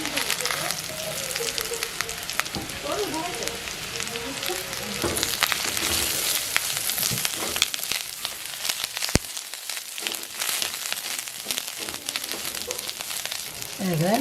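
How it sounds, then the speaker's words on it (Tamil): Pieces of drumstick (moringa) sauté in hot oil in a pan over a low flame, giving a steady, loud sizzle with occasional stirring clatter, while a voice speaks intermittently over it. "கொஞ்ச நேரம் வதக்குவோம்"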